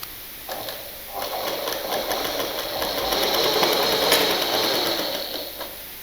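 A sewing machine runs steadily, stitching two blouse pieces together with a fast, even mechanical whir that rises slightly mid-run, loud and close with no talking.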